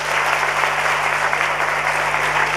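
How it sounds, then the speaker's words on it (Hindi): A large crowd at a motivational gathering claps loudly and continuously, a thick, even wash of many hands close by, with a faint steady hum underneath and no speech. "ताली बजाओ इनके लिए"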